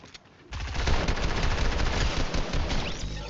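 Sniper rifle fire in a video game, heard as a dense burst of loud, close gunfire that starts abruptly and rattles on for a few seconds, with no talking.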